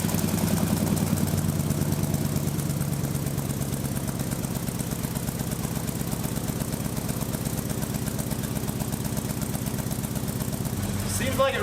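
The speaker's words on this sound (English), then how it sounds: "Now we got to do what every good exhaust guy does, is fire this baby up, see how she sounds." Ford F1 pickup with a swapped-in LS V8 running steadily with a low, even rumble and lumpy idle pulses throughout, then a brief change in tone at the end.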